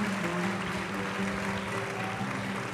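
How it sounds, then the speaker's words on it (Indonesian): An audience applauds a young woman after her presentation, a steady wash of clapping with a low murmur of voices underneath throughout. "Boleh kasih tepuk tangan yang meriah buat Kak Aini?"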